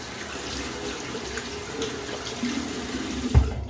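Water runs from a tap into a sink as a cup is rinsed, a soft steady splashing stream with a small thump of the cup near the end, fairly quiet and close.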